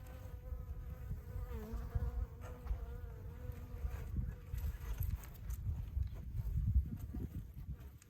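Honeybees buzz at an opened winter hive, a close, fluctuating drone of many wings with individual bees passing near, along with soft handling noises.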